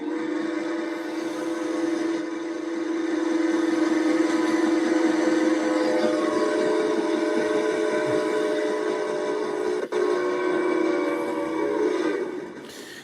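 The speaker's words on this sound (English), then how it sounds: "I hear the train. I hear it. I hear it, folks. I hear it at the distance." A train rumbles steadily with a sustained horn-like tone running through it, a continuous rolling sound from a distance that holds for several seconds before easing off, with no talking over it.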